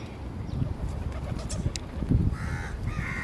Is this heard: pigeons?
yes